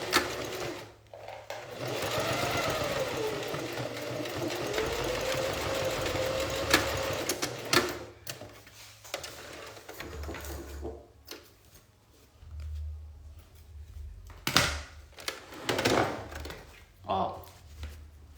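A sewing machine stitches a beginner's zippered toiletry bag, first in one long, fast, buzzing run and then in short bursts, with a voice talking between them.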